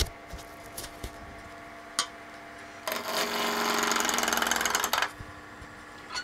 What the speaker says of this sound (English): we'll start the machine up and turn this to round.